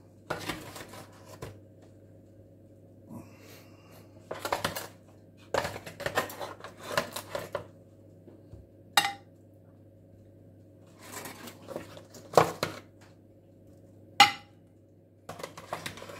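Roast potatoes for a traditional English Christmas dinner being lifted out and set into a dish, with intermittent clinks and scrapes of utensils and cookware spread through the clip over a steady low hum, no talking.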